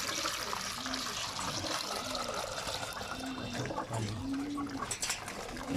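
Water pours and trickles steadily for racing pigeons, a continuous splashing, filling sound with a faint voice underneath.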